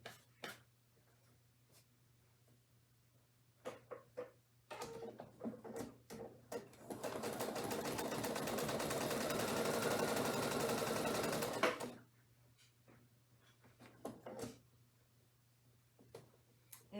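Close and fairly quiet, a sewing machine stitches a zigzag seam in one continuous run lasting several seconds, with scattered small handling clicks and taps before and after.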